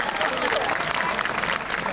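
A crowd at a military base anniversary festival muscle contest bursts into dense, loud applause that holds steady for two seconds, with voices mixed into the clapping.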